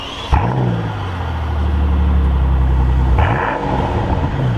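A 2002-era Mercedes-Benz S65 AMG W220 with a twin-turbo 6.0-liter V12 drives gently past, a deep steady engine drone close by, with gear-change dips and a low rumbling hum.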